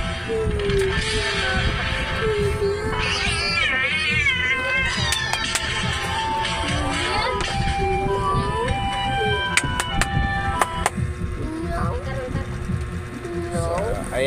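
A cat cries and meows repeatedly in a wavering, plaintive tone throughout, fairly loud and close, over a continuous busy background.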